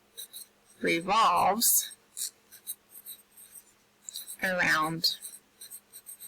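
A pen scratches out words on a diagram of Earth orbiting the sun in quick, dry strokes, close and clear, between two short bursts of a person talking.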